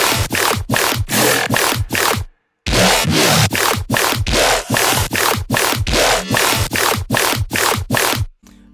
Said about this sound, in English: I'll just play the bass section for you guys